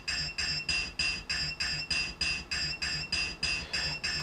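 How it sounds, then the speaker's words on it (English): Rhythmic swelling cymbal washes rise and cut off repeatedly, about three per second, sounding reversed and stretched into a pulsing, siren-like shimmer. "I also sampled some cymbals from another record and reversed the cymbals and time stretched"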